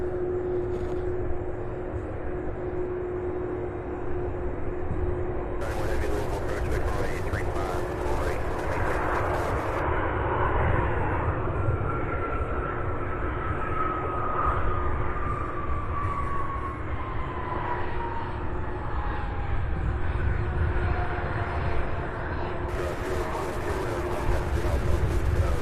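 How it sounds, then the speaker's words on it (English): A CRJ 200 regional jet lands at Louisville International Airport, a steady loud roar of jet engines and wind with a high whine that slowly glides downward as it passes. "All right, the CRJ 200 coming in for a landing now."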